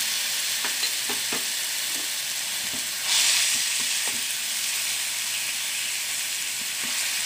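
Onions and tomato pieces sizzling in a pan for brinjal curry, a steady bright frying hiss with soft scrapes of stirring and one brief louder burst of sizzle midway.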